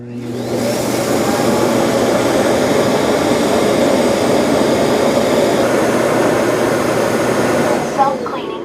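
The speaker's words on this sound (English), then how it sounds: "After it's done washing the mop, it will auto-empty the dustbin." A Roborock Qrevo Master dock auto-empties the robot vacuum's dustbin with a loud, steady suction roar that runs close and unbroken for about eight seconds, no talk over it.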